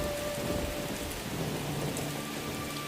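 Steady heavy rain pours through a cartoon street scene with rolling thunder rumbling underneath, a dense, continuous storm wash at constant loudness from start to finish.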